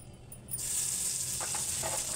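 Cumin seeds hit hot oil in a pan and break into a steady, bright sizzle after a brief quiet start, close and continuous with a few faint clinks.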